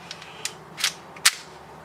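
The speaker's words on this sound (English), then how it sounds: "No, we'll just dry fire first." Dry-fire clicks from a 3D-printed prop .22LR gun: a couple of faint small ticks, then two sharper, louder mechanical snaps close by in a quiet room, with no talking.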